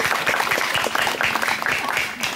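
An audience claps hands at a youth meditation gathering, a brisk, fairly loud burst of applause that carries on without pause.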